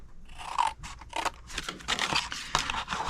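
Scissors snipping through cardstock along score lines for a treat box, a run of crisp, close cuts and rustling paper with uneven rhythm.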